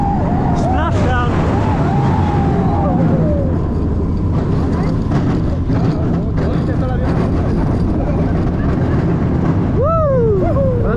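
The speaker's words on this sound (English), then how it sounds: "It's my favourite dive coaster in the world." Riders on the SheiKra dive coaster at Busch Gardens Tampa, with a sustained loud roar of wind and rushing track noise and brief screams or whoops rising over it, ending near the splashdown section.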